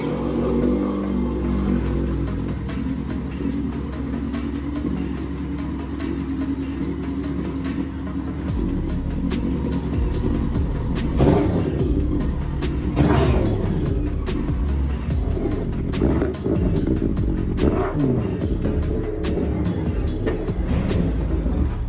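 A first-generation Yamaha R1 superbike with a five-valve engine, about 25 years old and pulled from a scrap yard, runs close by with a continuous rumbling engine note, rising briefly in a few sharp revs.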